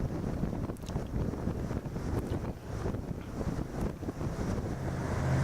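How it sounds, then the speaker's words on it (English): Strong wind buffets the microphone aboard a boat turning into a channel, with a steady gusty roar and low rumble of water and engine beneath, no voices. "maybe the wind will decrease a little bit"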